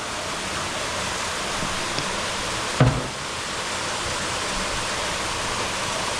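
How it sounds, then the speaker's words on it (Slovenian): A waterfall in the Glinščica gorge roars as a dense, even rush of falling water, loud and constant throughout, with one brief knock partway through and no voices. "in pa slap, čudovito"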